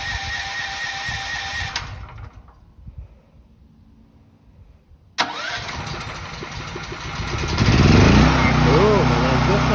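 A Westinghouse propane generator cranks briefly, goes quiet for a few seconds, then catches and settles into a steady, loud running drone that grows fuller toward the end, with a voice briefly audible early on.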